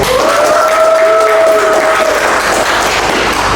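An audience at a village talk show claps to welcome the head of a tourism village in Tugu Utara, Cisarua, Bogor. The clapping is loud and continuous under a sustained tonal sound from the sound system.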